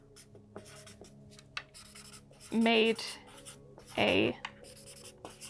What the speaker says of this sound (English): I'm going to write down on a piece of paper that I made a measurement